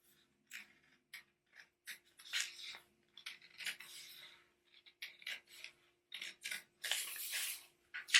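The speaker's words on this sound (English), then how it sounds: "You can just take your scissors and cut it." Scissors snip through paper while shaping a photo sculpture, giving a run of short, crisp cuts in irregular bursts, close and fairly quiet, with a faint steady hum underneath and no talking.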